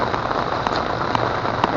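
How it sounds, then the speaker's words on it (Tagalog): Heavy rain pours steadily during a fishing outing, a dense constant hiss of drops with a few sharper splats striking a nearby surface. "Ito, naabutan na naman tayo ng lakas na ulan, kaya babasa na lang tayo."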